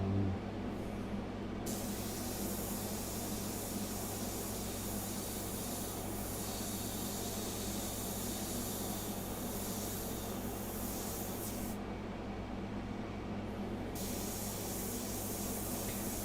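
An airbrush spraying India ink gives a steady, close, unbroken hiss of compressed air that holds at an even level throughout, with no talking.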